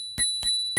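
A handlebar bell on a Daxys Bandicoot electric scooter is struck three times in quick succession, each ring a bright, close, sharp ding with a short decay and no voices.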